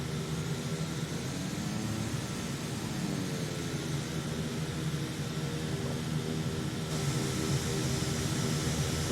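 Airbus A330 airliner flying, heard as a continuous broad jet-engine roar with a slow shifting whine that sweeps through it, steady and fairly loud from start to finish, no talking.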